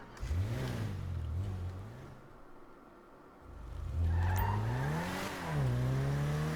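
A fairly quick car's engine revs up, drops back to idle, then revs and accelerates hard again, rising and falling in pitch, loud and close with no talking.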